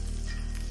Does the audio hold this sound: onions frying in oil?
yes